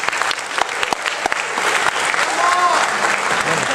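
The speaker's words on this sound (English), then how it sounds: "would you give your parents a huge round of applause?" Audience at a school spring concert applauds the students' parents: dense, steady clapping from a large crowd, close and loud throughout, with sharp individual claps standing out and a faint brief tone midway.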